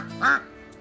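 A single duck quacks once, fairly close and loud over quiet outdoor background in a nature park.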